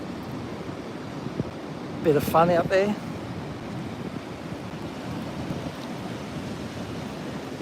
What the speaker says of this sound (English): But you can see those waves rolling through.